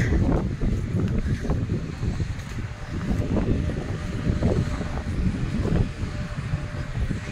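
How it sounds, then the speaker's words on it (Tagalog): Gusty cold wind roars across the microphone outdoors on a sunny day, a low rushing rumble that rises and falls continuously for several seconds without speech. "Pero malakas ang hangin. Malamig."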